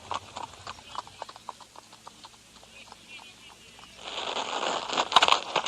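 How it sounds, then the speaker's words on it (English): Horses' hooves trotting at a quick pace while drawing a carriage, a rhythmic clip-clop that gives way to a louder, rougher rolling patter of wheels and hooves at the end. "We drove off as Johann started the horses at a quick pace"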